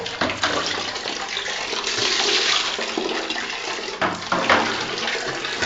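Water runs steadily to fill a container, a continuous broadband rush lasting the whole stretch with slight surges partway through, loud and close with no talk over it.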